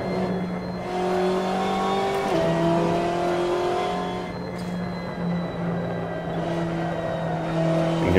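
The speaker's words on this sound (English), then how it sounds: "You can hear those tires squealing as we go through this fast double right-hander" A BMW M8 GTE race car in Assetto Corsa takes a fast double right-hander, its engine droning steadily with shifting pitch while faint tire squeal rises over the track noise, without any voices.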